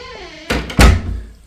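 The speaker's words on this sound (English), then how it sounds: "So you can close this second door" Hotel room door in Amsterdam being closed: a quiet hum, then two loud thuds close together as the door swings shut and latches, fading into room tone.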